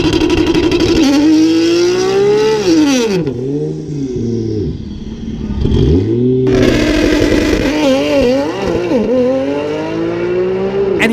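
Alpha 16 road car making a drag strip pass, engine screaming up through the gears with sharp drops at each shift, loud and close and alone.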